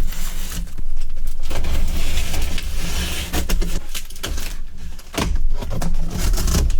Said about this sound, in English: Let's start by cutting it open.